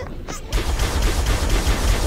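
A Covenant shade turret in Halo fires a rapid, steady stream of plasma bolts at the Flood, a dense rhythmic rattle that starts abruptly and continues loud and close to the end.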